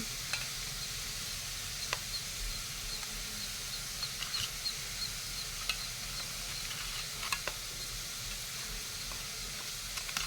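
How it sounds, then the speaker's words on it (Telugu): Onions fry in a pan with a steady, even sizzle and a soft hiss throughout, broken by occasional light clicks and taps from stirring, close and moderately quiet. "ఒక పక్కేమో ఉల్లిపాయలు వేగుతున్నాయి"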